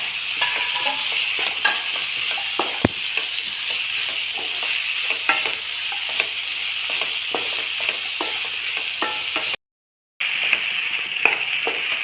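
Chopped potatoes, carrots and onion frying together for a chicken stew make a loud, continuous sizzle with frequent stirring clicks and scrapes, broken by a brief silent gap near the end.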